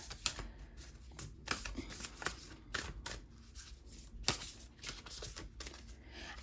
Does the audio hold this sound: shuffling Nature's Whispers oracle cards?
yes